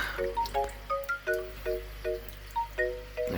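Plain water poured into a container, heard as a quick run of bright, pitched drips and plinks of varying pitch, fairly close and alone.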